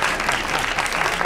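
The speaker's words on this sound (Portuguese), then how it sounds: "Por favor, aplausos." An audience claps at an academic arts research event, a short, dense, continuous round of applause filling the room.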